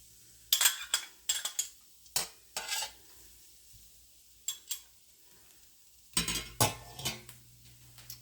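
Metal spatula scraping and stirring garlic cloves in about a quarter cup of olive oil in a pan, a series of short, close, sharp scrapes and clinks over a soft sizzle, with gaps between strokes.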